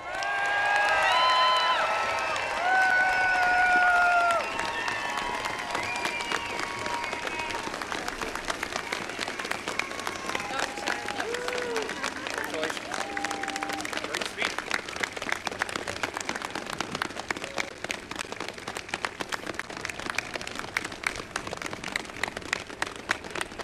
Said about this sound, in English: Lots of applause and cheers for the address from the 49th governor of the state of Michigan, Gretchen Whitmer